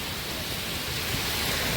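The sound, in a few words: heavy rain with wind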